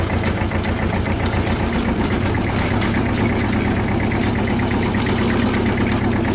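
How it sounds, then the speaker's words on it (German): A tractor engine runs steadily with its power take-off engaged, spinning toward 540 rpm on a farm; a loud, continuous, even chugging drone with mechanical vibration, close by and with no speech. "da läuft die Zapfwellen einfach viel schneller auf die 540 Umdrehungen wie beim KL 300"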